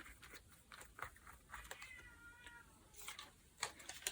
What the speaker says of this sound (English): If you heard that desperate voice, it was Mr. Hemingway, our cat